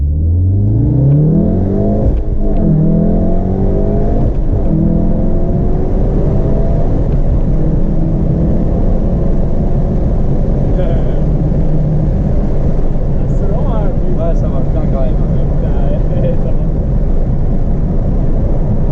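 A Volkswagen Golf 7R turbo engine revs hard on a night drive, loud and sustained with repeated rising and falling pulls, heard from inside the car while occupants talk over it.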